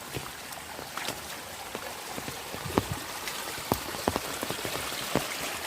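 Heavy rain pours down steadily during a flooding storm, a dense continuous patter with scattered louder drips and splashes close by, no voices.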